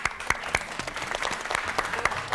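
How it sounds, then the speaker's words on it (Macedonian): Audience applause at a ballet-related event, a dense burst of clapping from a modest crowd with a few louder individual claps standing out, steady for a couple of seconds. "да ја поздравиме со аплауз."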